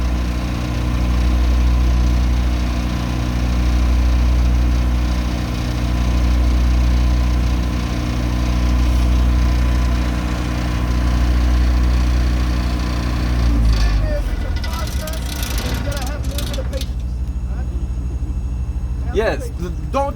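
A generator engine idling as it cools down, steady low droning hum with a gentle periodic swell, running alone for most of the time before a voice and handling noises come in near the end.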